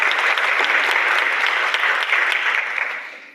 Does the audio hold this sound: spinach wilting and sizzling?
no